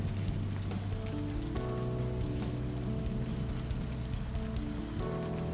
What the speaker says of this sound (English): raindrops on the leaves or the trees.